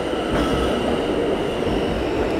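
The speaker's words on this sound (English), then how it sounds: "All right, looks like it's the F train." New York City subway F train arriving at a station, a loud continuous rumble and roar of rail cars with metallic wheel noise, steady and close throughout.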